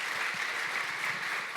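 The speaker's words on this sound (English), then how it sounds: "Yes, applaud for that." Audience applause at a business breakfast event, a dense, steady wash of many hands clapping that holds at an even level throughout, with no voices over it.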